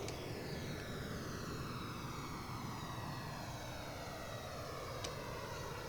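A Sud Aviation Vautour jet roars past the tower in FSX, a steady loud engine rush with sweeping tones that slowly fall as it passes the grass airfield.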